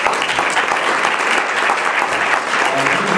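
Steady, dense applause from an awards gala crowd, loud and unbroken, filling the hall with continuous clapping for an honoree.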